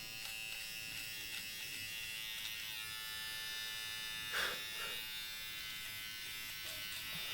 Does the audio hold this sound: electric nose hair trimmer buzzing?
yes